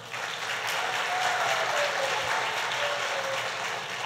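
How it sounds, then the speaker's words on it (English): A crowd at a governor's public announcement applauds in a broad, steady wash of clapping that holds evenly for several seconds, with a faint tone drifting through in the background. "Let's give him a round of applause."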